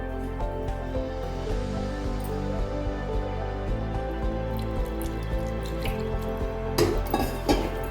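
Water sprinkled by hand into a batter of banana flower, rice flour and salt for pakoda, soft irregular drips and splashes close by over a steady hum of room noise.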